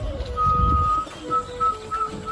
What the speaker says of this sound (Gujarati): કબૂતર અત્યારે અંદર આવી છે ખેતરમાં બેસવા માટે